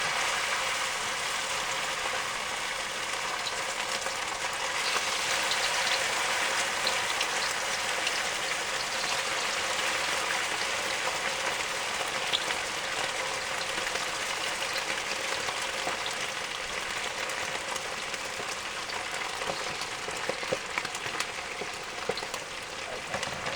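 Pork pieces frying in a hot wok for Szechuan pork, a dense continuous sizzle and crackle with occasional spitting pops, steady and close throughout.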